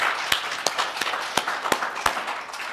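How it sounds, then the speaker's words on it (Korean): Congregation in a church service clapping in a slow, regular rhythm, about one sharp clap every third of a second, fairly soft and somewhat distant with no voices. "우리 하나님께 영광의 박수 올려드립시다"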